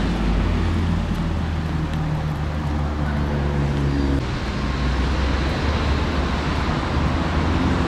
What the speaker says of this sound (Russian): Лавочки, деревья и только шум машин — единственное, что смущает.